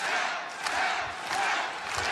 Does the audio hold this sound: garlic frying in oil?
no